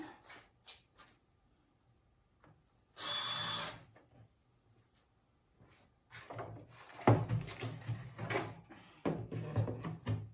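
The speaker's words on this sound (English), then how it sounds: "you do have to drill the pilot hole" A power drill whirs in one brief burst, drilling a pilot hole into a wooden 1x board, followed by knocking, clattering and handling noises nearby.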